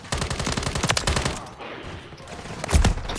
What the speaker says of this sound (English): Ooh, shotgun.